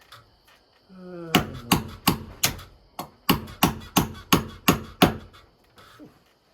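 A series of about nine sharp, ringing hammer strikes on a nail driven into old, hard porch wood, close and loud in a steady rhythm, with a short pause partway through.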